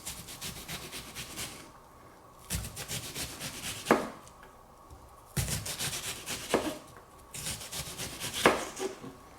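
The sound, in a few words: knife chopping onion on a cutting board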